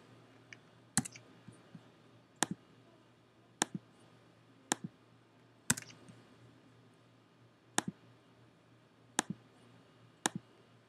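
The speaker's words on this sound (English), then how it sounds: "you have to just kind of keep clicking away for it to register" A computer mouse clicks while working in Adobe Photoshop, about eight sharp, close, isolated clicks spaced irregularly over a quiet background.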